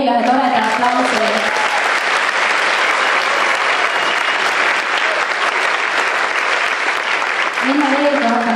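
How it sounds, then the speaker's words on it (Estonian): An audience at a school ceremony gives a long, loud round of applause, dense steady clapping from a large crowd filling the hall, with brief bits of voice at the start and end. "teeme neile veel ühe toreda aplausi"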